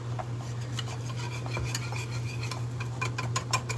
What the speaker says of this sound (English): this is so much easier with a whisk